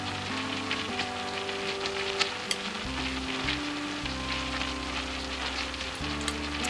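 Battered, steamed cauliflower pieces for kofta fry in oil over medium heat, giving a steady, crackling sizzle with occasional sharper pops and a low, even hum beneath, without talk.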